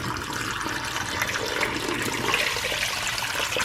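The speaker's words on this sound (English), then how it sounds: "Hot boiling water, get that dumped in there." Hot boiling water pours down a clogged sink drain in a home, making a loud, steady gushing rush of liquid with splashing and trickling that lasts throughout and has no talking over it.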